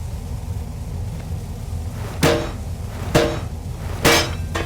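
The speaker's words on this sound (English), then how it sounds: "We do have a hammer we could try. As, of course, we don't have a key." Hammer blows striking a padlock in the game Penumbra: Overture, three sharp metallic impacts spaced about a second apart over a low steady ambient hum, no talking.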